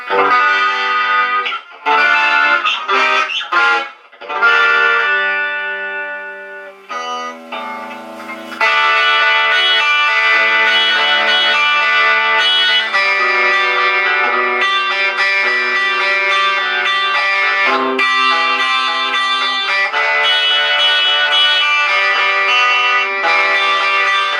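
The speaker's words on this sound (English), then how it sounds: "let's put it on something like British rock and roll with a bit of chorus" Electric guitar, a 1984 two-knob USA Fender Stratocaster, with a shimmering chorus effect on a British rock setting, starting with choppy strummed chords and then sustained, ringing chords played loud and alone.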